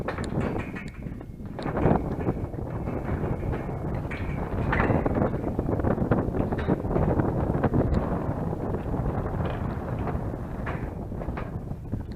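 Steady wind blows beside the Mun River near a suspension bridge below the Pak Mun Dam, buffeting the microphone in a continuous loud roar with gusty swells throughout.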